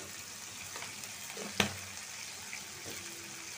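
Chhapa shutki, dried fish, frying in a pan sizzles steadily up close, with a sharp utensil clink in the middle and light stirring scrapes.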